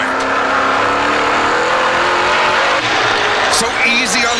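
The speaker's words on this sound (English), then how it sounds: "you can hear when he tried to drive under the car in front of him, he lit up those rear tires" An oval-track race car howls at high revs as its rear tires spin under throttle, loud and continuous. A commentator talks over the engine roar.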